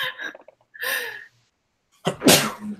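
A single loud, close sneeze bursts out sharply near the end, after short stretches of quiet voices and breathy sounds.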